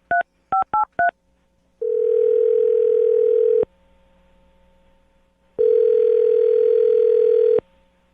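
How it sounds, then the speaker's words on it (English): Four quick touch-tone beeps, followed by two long, steady telephone ringback tones separated by a pause. "I'm going to dial her phone number right now."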